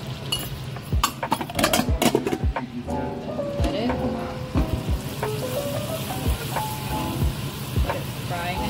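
Hing and spices frying in a pan for pav bhaji, bright sizzling with clinks of a utensil against metal and bursts of stirring, a voice talking in places over the crackle.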